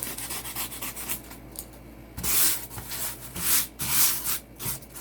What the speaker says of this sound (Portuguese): agora eu vou vir com a lixa de leve